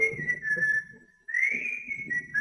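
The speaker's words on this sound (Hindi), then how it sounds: "तुम्हारा कमीना सीटी बजाता हुआ, मैं आज इसकी सीटी तोड़ दूंगा" A man whistles a sustained, wavering tune, pausing briefly before resuming; low background chatter and ambient noise sit underneath, and the whistle stands out clearly and fairly close.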